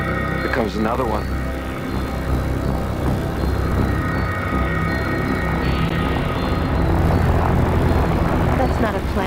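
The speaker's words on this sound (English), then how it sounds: "That's not a plane, that's a helicopter." A helicopter flies overhead with a steady, loud rotor and engine drone that lasts throughout, while people talk over it.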